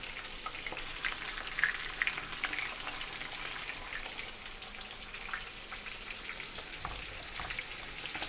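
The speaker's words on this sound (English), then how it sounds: "I hope you can hear that sizzling." Oil sizzles and crackles steadily as a chicken wing deep-fries in a pan, with a constant hiss and scattered pops, fairly quiet and uninterrupted by speech.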